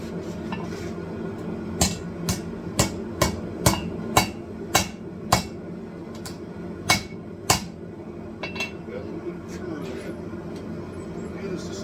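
A hammer strikes hot steel on an anvil while forging a San Mai paring knife, a run of about a dozen sharp ringing blows in a steady rhythm, close, over a low forge roar.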